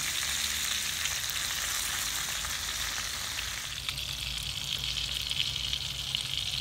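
Meat sizzles steadily in hot lard, a dense continuous frying hiss that holds even and fairly loud throughout with no voices.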